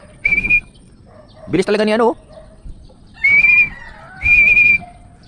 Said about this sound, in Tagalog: Nahirapan ako pumito eh.